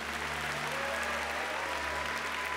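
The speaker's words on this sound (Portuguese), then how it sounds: "eu peço uma salva de palmas" Listeners at a New Year's retreat music show applaud, a steady, moderately loud clapping sustained throughout over a low electrical hum from the sound system.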